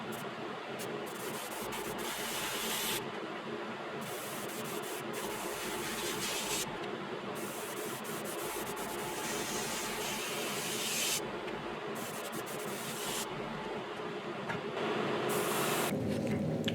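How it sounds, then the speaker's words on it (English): Airbrush spraying base paint onto landing gear parts for a Tamiya 1/32 de Havilland Mosquito FB Mk VI model, a steady close hiss broken into bursts with brief pauses. "just finished up in the airbrush booth, and all the base paint is done with all the landing gear stuff"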